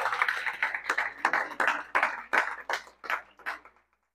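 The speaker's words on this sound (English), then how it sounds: "Okay, give a big round of applause." A small audience at a new moon gathering gives a short round of applause, about a dozen distinct claps in an uneven rhythm, close and clear, fading out after roughly four seconds.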